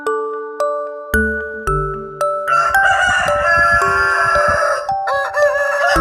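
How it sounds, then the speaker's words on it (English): Rooster crowing as a chicken sound effect over a steady backing of chimes and plinking tones, with the crowing rising loud and full in the second half of the short clip. "Chicken."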